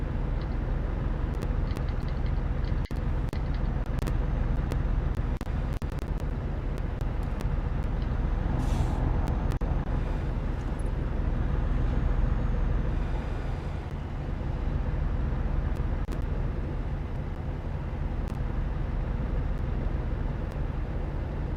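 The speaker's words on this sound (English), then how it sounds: "that was a fire truck. That's one of the new." A fire truck in Euro Truck Simulator 2 rumbles past on the road, a steady, fairly loud broadband engine and road noise that swells and fades over about twenty seconds, with no talking.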